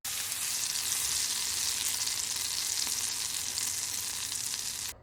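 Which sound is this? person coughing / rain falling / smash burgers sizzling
smash burgers sizzling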